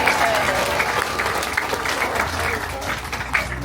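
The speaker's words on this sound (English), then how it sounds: "Round of applause for our sheep." An audience applauds sheep being herded at a farm show on the Gold Coast, a steady wash of clapping running throughout with a voice talking over it.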